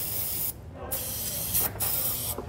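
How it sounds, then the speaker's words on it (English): Aerosol penetrating oil sprayed onto rusted trailer leaf-spring U-bolts, three close, loud hissing bursts with short pauses between them, no talking. "I'm gonna spray some penetrating oil on here just so that we can get our bolts off."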